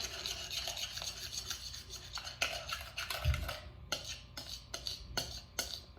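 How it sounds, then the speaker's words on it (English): Sugar scrub with orange scent being whisked in a bowl, giving quiet, rapid scratchy strokes of the whisk in a steady rhythm, close and soft with no voices. "And a little more whisking."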